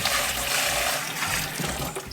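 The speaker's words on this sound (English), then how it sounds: "I'm going to put about half my water in here first." Water gushes steadily into the tank of a backup garden sprayer, a brief, close, continuous pouring rush with a slight gurgle and no talking.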